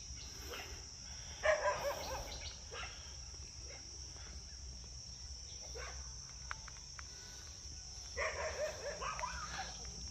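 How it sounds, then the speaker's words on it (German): Dogs bark in the distance in a couple of short bursts, faint over a steady high chirping of crickets outdoors by a lake and rock formations in Chanthaburi, Thailand. "Ein paar Hunde, die hier bellen."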